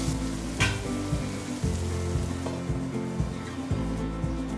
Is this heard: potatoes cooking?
yes